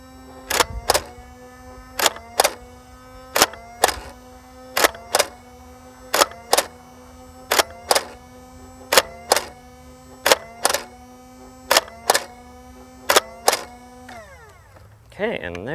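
A stock Nerf Alien Menace Incisor blaster fires ten shots outdoors, each a sharp, loud crack in a steady rhythm over a constant motor whine, with the revving winding down after the last shot.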